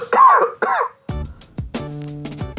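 A patient simulator mannequin gives a few short, harsh coughs in quick bursts, fairly close and loud, with brief pauses and no talking.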